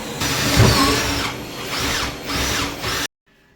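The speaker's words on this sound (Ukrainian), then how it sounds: "тому сверлю дуже акуратно" A power drill bores a screw-diameter hole for mounting a monitor arm, whining steadily at close range with a few brief dips in pitch and load before cutting off abruptly into near silence.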